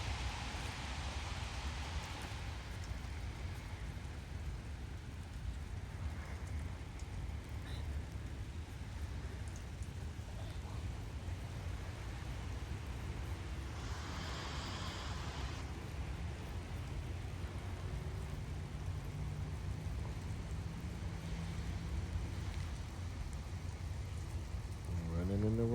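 Steady rain falling outdoors makes a continuous, even hiss throughout, with faint scattered background sounds.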